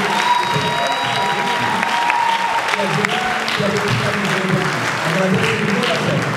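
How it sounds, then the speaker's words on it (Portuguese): Sustained audience applause at a dubbing panel event, steady and dense throughout with crowd voices and some cheering mixed in, fairly loud and close. "Realmente eles merecem uma salva de palmas por tudo que eles fizeram aqui"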